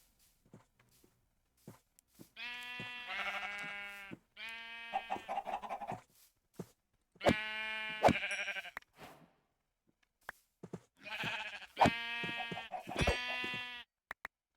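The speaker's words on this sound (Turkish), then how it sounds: "Bak koyun var." Sheep in the Minecraft video game bleat in four or five loud, harmonic bursts spread across the clip, with short quiet gaps between them and no talking.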